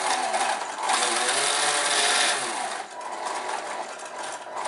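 A small model motor runs on forward throttle, a steady buzzing whine that swells and eases slightly as the stick moves, close by with no talk.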